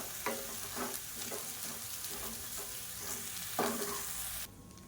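Cooked rice with chopped coriander leaves is stirred in a pan for a lunchbox variety rice, a series of rhythmic scraping turns over a gentle sizzle, close and moderately quiet, ending abruptly.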